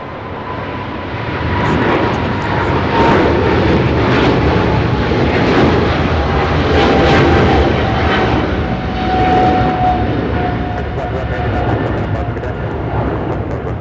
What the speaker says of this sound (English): Turkish Airlines flight 180 taking off to Istanbul on the 777-300ER